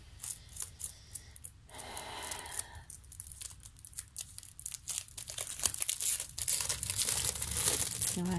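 A wrapped package is opened slowly, with soft, intermittent crinkling and tearing of wrapping close by, quiet at first and growing busier and louder toward the end.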